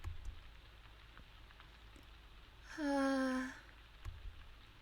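Steady soft rain falls in a horror video game set in a mansion, a continuous faint hiss throughout, with a brief tonal chime-like sound rising over it midway.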